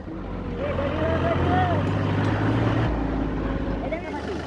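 A tractor engine idles and labours while ploughing a field, where it has become stuck: a steady, close mechanical hum running beneath people talking.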